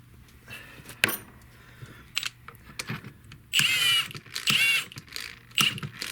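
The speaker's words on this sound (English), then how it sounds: "it may be a little bit overkill, but I'm going to use my impact driver" An impact driver tightens a clamp on a fuel hose in a workshop, firing in several short, sharp rattling bursts separated by brief pauses and quieter handling clicks, close and fairly loud.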